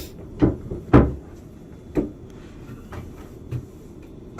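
A shower door on a Kraken 50 yacht in the cabin thuds and clicks a few times, with two louder knocks close together near the start and softer taps after, in a quiet room.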